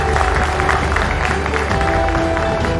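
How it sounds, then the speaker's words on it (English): Audience applause for panel guests at the Rising India summit, a dense, steady clapping crowd that stays loud and close from start to finish. "Big round of applause for them,"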